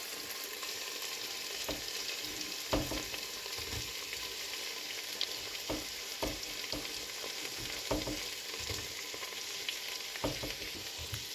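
Sliced onions stirred into hot oil with ginger and garlic, sizzling steadily in a pan for chicken mappas, with repeated scraping strokes of the spoon against the pan, close and alone.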